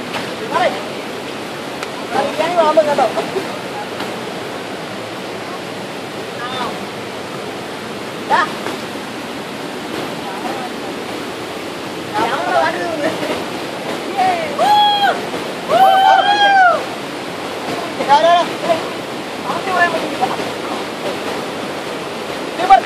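A waterfall in Palakkad, heard as a continuous broad roar of falling water close by, with people talking over it at intervals.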